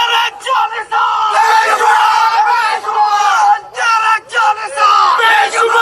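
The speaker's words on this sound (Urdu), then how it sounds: "اور یہ نعرے سنیے." Crowd of men chanting slogans outside a jail, one voice calling out and a group roaring back in loud, emotional call-and-response bursts, close and raucous.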